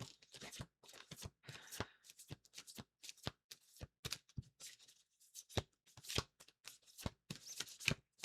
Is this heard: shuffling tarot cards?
yes